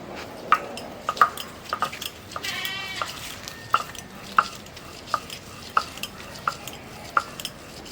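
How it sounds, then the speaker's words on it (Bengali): Ginger and garlic are ground into paste by hand. Regular sharp knocks and scraping strokes repeat in a steady rhythm, close and fairly quiet, with a brief animal-like cry in the background. "আদা রসুন বাটতেছো"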